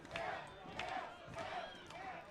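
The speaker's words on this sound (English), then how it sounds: "Crowd is chanting his name, Cam." Crowd at an Oakland Ballers baseball game chanting batter Cam Buford's name, a rhythmic repeated call in four even pulses, distant and faint in the stadium.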